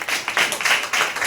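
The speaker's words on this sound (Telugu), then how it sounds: "వారికి ఒక చప్పట్లు గట్టిగా" At a church Sunday school event, an audience claps for the organisers of the games. The applause is short, dense and fairly close, with a brisk rhythm and no voices.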